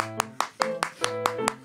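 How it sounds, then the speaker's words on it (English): A single person claps alone on a talk radio show, seven sharp, evenly spaced hand claps at close range, with a steady tonal hum sustained underneath. "Guess I'm the only one clapping."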